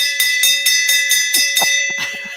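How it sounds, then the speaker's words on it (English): A bell rings in fast repeated strokes, about ten bright metallic hits in under two and a half seconds with a steady sustained tone underneath, loud and close, with no talking over it. "Let me hear that bell ring"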